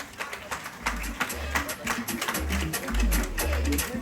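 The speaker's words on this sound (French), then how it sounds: "Les applaudissements nourris donc pour les U20 de l'Aigle Noir" An audience applauds the U20 team of l'Aigle Noir, the Martinique vice-champions, at an awards ceremony, with steady clapping mixed with crowd noise and voices talking.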